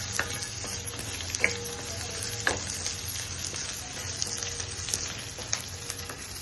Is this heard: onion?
yes